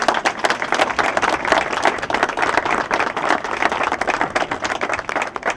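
Loud, dense applause from a community audience honoring local leaders, a continuous rapid patter of many clapping hands close by for several seconds.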